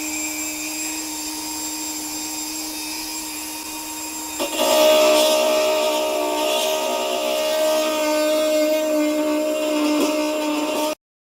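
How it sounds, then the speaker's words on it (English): A rotary tool fitted with a grinding bit cuts away old hinge clips on a turntable dust cover, a loud steady high-pitched whine that starts midway after a quieter motor hum and runs continuously until it stops abruptly. "with a grinding bit here to try to remove these clips that were here that were used by the hinges"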